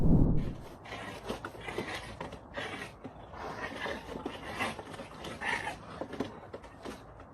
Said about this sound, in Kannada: ಹುಟ್ಟಿ 3 ಸೋಮವಾರನೂ ಆಗ್ಲಾರ್ದಂಥ 2 ನಾಯಿ ಮರಿ ಇದ್ದು ಅದ್ರ ನಡು ಫೈಟ್ ಇಟ್ಬಿಟ್ರು